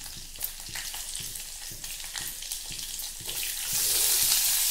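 Curry leaves and green chillies fry in hot oil in a pan, a close, busy sizzle with bursts of spitting that swells louder toward the end.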